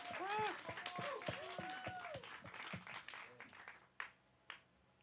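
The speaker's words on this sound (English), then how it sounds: "Let's go ahead and give them a round of applause," An audience at a student film premiere night claps for the crew, a moderate round of applause under excited voices and cheers that thins out and ends with a few last scattered claps.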